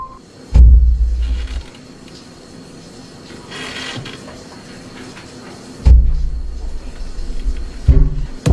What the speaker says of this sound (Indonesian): dirasa itu suara ranjang tetangga yang beradu dengan temboknya